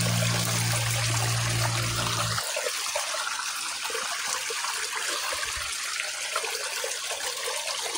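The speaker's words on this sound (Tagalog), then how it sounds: "ito parang may kanal na maliit na may tubig" Water trickles and flows through a small canal, a continuous bright splashing wash; a low steady hum sits underneath for the first couple of seconds, then the gentle stream carries on alone.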